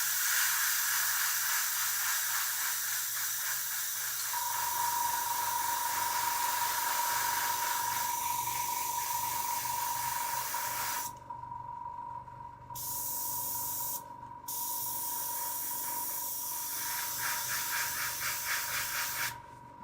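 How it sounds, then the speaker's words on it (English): An airbrush sprays paint onto a scale model, giving a steady, close hiss that runs almost the whole time, with a thin whistling tone and two brief drops where the spray stops. "My fingers are going numb from the airbrush now."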